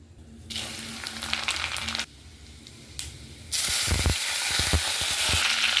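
A spoonful of ghee with a bay leaf, garam masala and whole cumin seeds sizzles in bursts, dropping quiet between additions and then swelling into a loud, bright hiss with a few utensil taps.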